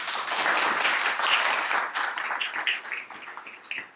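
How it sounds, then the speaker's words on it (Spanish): A conference audience applauds after a talk on sustainable WordPress websites, a dense wash of clapping that starts full and steady, then thins and tapers toward the end. "un aplauso otra vez"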